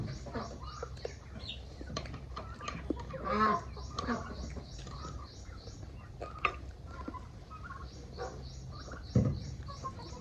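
Chickens cluck softly in scattered bursts against a quiet outdoor background, with occasional faint scratching and a few louder clucks.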